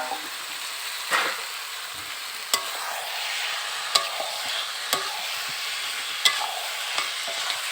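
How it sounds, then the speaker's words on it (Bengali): Mutton and boiled potatoes stir-fried together in a pot, with a broad sizzle and sharp, evenly spaced scraping knocks of a spoon against the pot, close and loud. "ভালো করে মাংস এবং আলু কষা"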